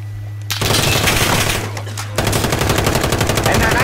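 Rapid automatic gunfire in the Warzone video game, loud and continuous bursts with a brief shift midway, close and dense; a voice is faintly audible beneath.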